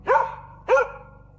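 A hunting dog barks twice, close and loud, with a short pause between the sharp barks, in a wild setting during a moose encounter.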